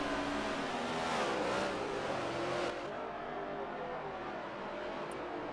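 NASCAR race cars in a racing video game streaming through a run of esses, engine whine rising and sweeping in a steady drone that fades slightly partway through, with no voices.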